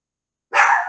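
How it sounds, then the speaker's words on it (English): A single dog barks once, loud and close, in a short burst that starts abruptly after a moment of silence and rings out briefly. "that's my dog."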